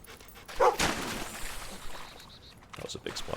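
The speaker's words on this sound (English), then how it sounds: "The dog barks based on your proximity to the treasure or dig spot, not his" A dog in the Fable II video game gives a short bark followed by whimpering yips amid game ambience, with a voice talking over parts of it.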